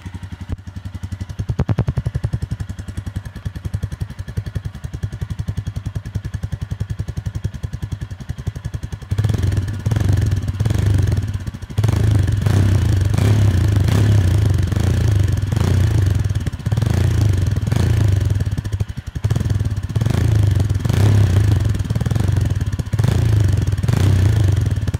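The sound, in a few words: Royal Enfield Himalayan 411 exhaust recorded with microphone close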